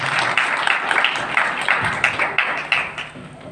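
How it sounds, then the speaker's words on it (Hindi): Steady applause from a church congregation during a sermon, with a continuous patter of clapping hands and a few sharper claps throughout. "जोरदार तालियां खुदावंद के लिए जाएंगे।"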